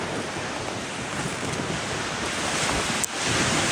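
Sea surf washing onto the shore at Liepāja, a steady broadband roar that stays close and continuous, with wind buffeting the microphone throughout and a brief dip near the end.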